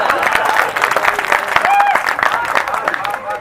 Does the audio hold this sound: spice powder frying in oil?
no